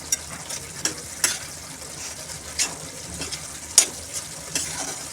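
Matar ragda, a spiced dried-pea curry thickened with soaked besan, being stirred in a pan, with soft scrapes and clinks of the spoon recurring every second or so over a low simmering hiss.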